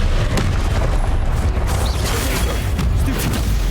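Spell blasts of Confringo from the Hogwarts Legacy video game roll out as continuous loud booming and rumbling combat noise with mechanical creaks, a dense, steady wall of sound throughout.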